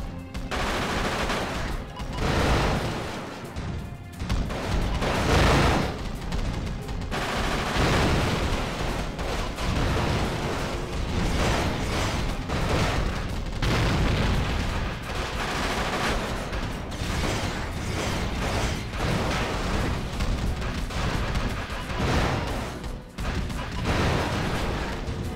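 Dense barrage of missile launches and blasts in the 2005 Fantastic Four video game, rapid overlapping bursts and crashes filling the whole stretch at a loud, continuous level with brief dips.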